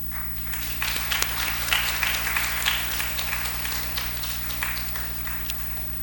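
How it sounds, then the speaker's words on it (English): An audience applauding during a felicitation ceremony, a continuous wash of many claps at moderate distance over a steady electrical hum. "Kindly keep the claps going."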